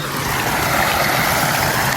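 Irrigation water flows in a steady rush into a farm field being watered for a tobacco crop, a loud, close and continuous gush with no pauses and no voices.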